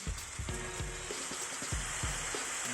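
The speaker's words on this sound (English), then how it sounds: "Oh, it starts to sizzle beautifully already." Marinated salmon slabs sizzle on a hot grill, giving a steady close hiss broken by repeated small crackles and pops as the fish hits the heat.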